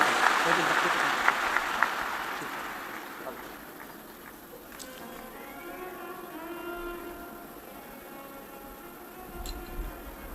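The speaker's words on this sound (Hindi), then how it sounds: "एक जोरदार ताली बजाओ।" Loud applause from a large audience at a live Shiv Mahapuran religious discourse in Bhilwara, strongest at the start and then fading, with a voice speaking over the crowd noise.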